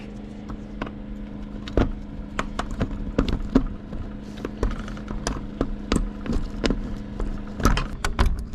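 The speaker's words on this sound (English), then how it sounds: "Found these 2 keys." A pair of keys found in a long-abandoned 1981 Peterbilt 359 truck jingle in repeated short metallic clinks and rattles, close by, over a steady low hum.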